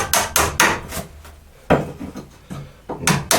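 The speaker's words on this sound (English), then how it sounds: "Just using a nice wide flat chisel." A wide flat chisel is struck into scrap wood in a workshop, giving sharp, loud knocking blows in small irregular bursts with short pauses between, close to the microphone.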